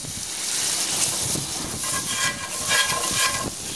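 Butter and oil sizzle in a hot pan, a steady crackling hiss at moderate volume with small bursts of spatter and no talking.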